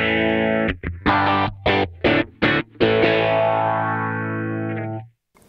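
An electric guitar through a Kemper profiler's phaser on an Eddy preset emulating a Phase 90 plays a string of short, punchy chord stabs, then a long ringing chord with a slow sweeping phase swirl that fades out, with no talking.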